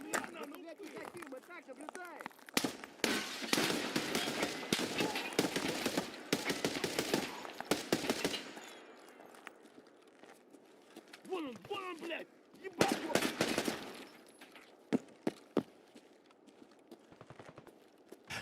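Pistol shots ring out in Escape from Tarkov in rapid bursts, loud and close, followed by scattered single shots amid footsteps and ambient noise.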